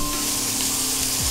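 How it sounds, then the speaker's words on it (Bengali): Diced onions fry in a pan, an even, dense hiss and sizzle that runs loud and close throughout, with no speech. "পেঁয়াজটা ভাজা হোক"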